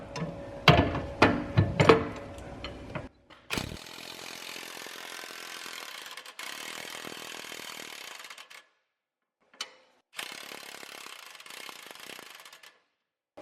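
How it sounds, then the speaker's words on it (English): A 21mm lower spring bolt on a BMW F30/F80/F82 suspension is loosened with a wrench, sharp clicks and clanks giving way to bursts of rapid ratcheting with short pauses between. "we're going to remove this lower spring bolt"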